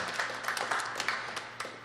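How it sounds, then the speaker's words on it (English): A live radio-play theater audience gives a brief, soft round of applause, scattered hand claps at a distance with no talking. "I think that deserves just one more round of applause on that"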